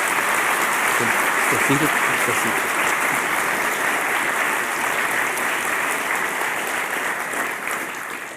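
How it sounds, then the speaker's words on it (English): A seated conference audience gives sustained applause to a panel after a discussion on technology-driven transitions, a dense, steady clatter of many hands that fades slowly, with a brief spoken line near the start. "A round of applause, please, for the panel."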